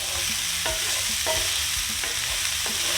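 Onions and carrots sizzle steadily in a hot pan for a smoked shepherd's pie, with a spoon stirring and scraping through them in several distinct strokes over a continuous close frying hiss.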